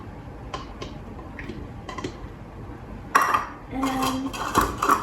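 Chopped onions and cucumber for soy ceviche clink and clatter in a dish, with a few light knocks followed by louder scraping and rattling of utensils against the bowl up close.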